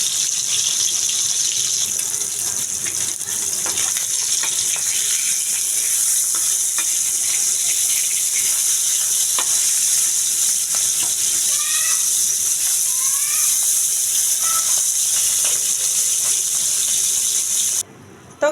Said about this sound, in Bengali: তো গাইস দেখেন আমার মাছটা ভাজা হয়ে গেছে।